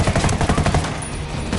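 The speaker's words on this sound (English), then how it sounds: "Engaging! I'm opening fire." Rapid automatic gunfire from a firefight in Ghost Recon Wildlands, a quick rattling string of loud shots lasting under two seconds.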